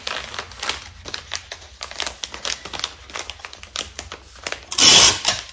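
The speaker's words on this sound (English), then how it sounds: "I like to fold the envelope in a bit." A shipping envelope being folded and crinkled by hand while an order is packed, close paper crackles and rustles in uneven bursts, ending with one louder crumple.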